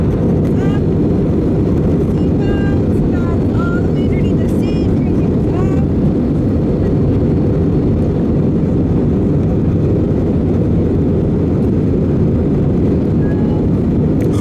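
Steady loud cabin roar inside a Frontier Airlines Airbus A320neo descending to land, a deep constant rumble and hiss with no break, with faint voices and chatter in the cabin over it.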